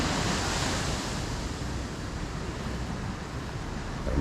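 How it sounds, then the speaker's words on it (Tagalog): Ocean waves wash steadily onto a beach in La Union, a continuous broadband roar of surf with some wind rumble, loud and close with no voices throughout. "Mas maganda yung alon dito,"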